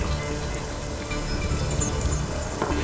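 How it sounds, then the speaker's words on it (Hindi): Heavy rain pours down in a Hindi-dubbed action film scene, a dense, even hiss that holds steady throughout with no voices. "अमू, इतनी बारिश में कहाँ जा रही हो?"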